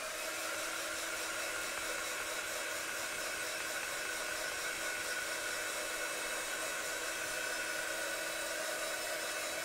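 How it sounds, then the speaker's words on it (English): A heat tool blows steadily to dry mixed media paint on a heron painting, a constant airy whirring hum that runs unbroken, close and moderately loud, with no voices. "I'm going to give it a blast of heat, so just bear with me while I dry this off."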